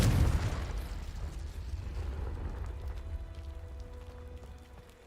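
Confringo explosion spell from the Hogwarts Legacy video game: a loud, low booming blast at the start that decays into a long rumbling, crackling tail, with faint tonal game sounds lingering afterward.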